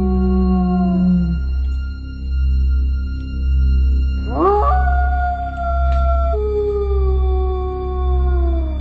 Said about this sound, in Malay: macam bunyi seekor anjing.